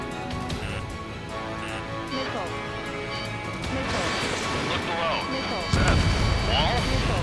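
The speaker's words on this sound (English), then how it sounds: "Missile. Missile. Look below. Missile." Missile explosions in Ace Combat 7, a run of crashing blasts and sharp impacts amid roaring jet noise, building to a louder, heavier burst near the end, with voices talking over the action.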